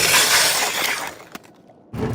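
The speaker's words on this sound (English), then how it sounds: "It's the sounds from cracks striking beneath me and the vibrations within the ice plate" Thin ice cracking under an ice skater, a bright shattering burst with hissing decay, a brief sharp crack, then a short pause before the noise returns.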